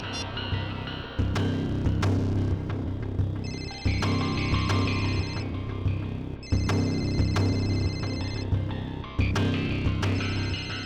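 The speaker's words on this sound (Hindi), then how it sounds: "और ये जो बेल बज रही है, इसी नंबर से फोन आया था।" A telephone rings in repeated bursts of bright, trilling tones, each ring separated by short pauses, over a steady low hum in the background.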